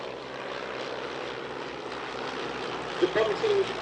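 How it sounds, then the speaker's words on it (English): A de Havilland DH-60X Moth biplane performing loops at an Old Warden airshow produces a steady propeller-engine drone in the distance, and a voice talks briefly over it near the end. "The DH-60X Moth here is particularly historically significant because it used to be the personal aircraft of Richard Shuttleworth"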